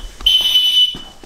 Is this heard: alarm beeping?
yes